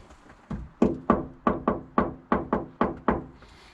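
Ten hollow knocks on the untreated wheel arch panel of a Peugeot Expert van, struck in a steady rhythm with a ringing, echoey decay after each hit, close and loud.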